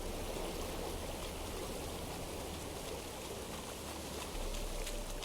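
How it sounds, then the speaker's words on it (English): Steady rushing waterfall in The Witcher 3, a continuous broadband roar of falling water that holds at an even level throughout with no talk over it. "I mean, there's a waterfall."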